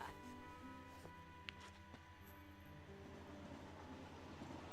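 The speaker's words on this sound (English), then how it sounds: "We're just gonna stare off to the distance as we hear a train drive by" Train passing by in the video game Kingdom Hearts 2, a faint steady rumble with rail clatter and a few light clicks, distant and low in level.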